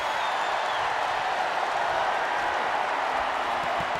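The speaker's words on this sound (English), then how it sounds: "The crowd going crazy." Wrestling crowd cheering and roaring steadily throughout at a show, a dense continuous wash of noise with faint claps, no break or lull.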